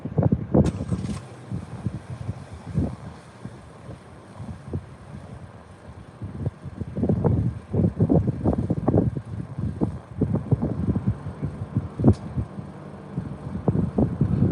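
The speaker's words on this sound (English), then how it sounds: "Winds are slowly picking up in intensity, probably closer to 20-25 now in the southeast." Strong, warm southeast inflow wind near a supercell northwest of Clovis, New Mexico, buffeting the microphone in steady low rumbling gusts that rise and fall throughout, with occasional louder surges and no talking.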